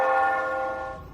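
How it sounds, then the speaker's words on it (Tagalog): Church bell ringing one sustained, fading stroke with rich ringing overtones, clear and fairly loud, heard alone with no voices. "Kampana ng simbahan yan."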